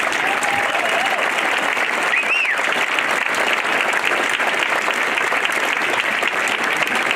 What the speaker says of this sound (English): So please give our special guests and our leaders a round of applause